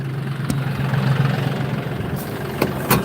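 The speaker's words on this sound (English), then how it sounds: "I'm trying to get the tractor straight" Tractor engine idling steadily nearby on a windy farm while hay is being thrown, a low constant rumble with a few brief knocks and clatters over it.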